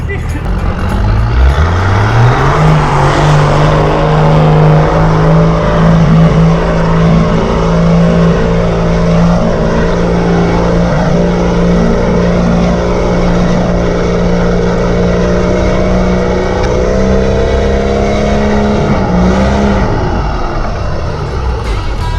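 A four-wheel-drive vehicle pushes through fresh snow during a heavy Australian snowstorm. Its engine drones loudly and continuously, the pitch climbing under load, with voices talking over it.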